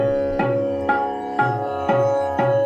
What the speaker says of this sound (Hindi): ये आपको तानपुरा और वो ताल दोनों सुनाई दे रहे हैं